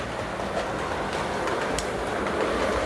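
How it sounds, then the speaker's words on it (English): A Long Island Railroad train runs along the main line, a steady broadband rumble and rush of steel wheels and wind with faint rhythmic clatter, continuous and fairly close. "Big wheels on the main line, tons of steel slicing the wind"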